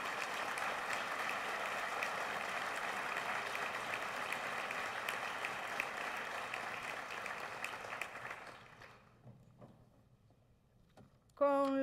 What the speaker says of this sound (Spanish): Un fuerte aplauso para las y los mejores promedios generales.